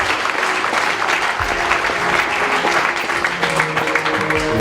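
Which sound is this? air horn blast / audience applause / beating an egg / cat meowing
audience applause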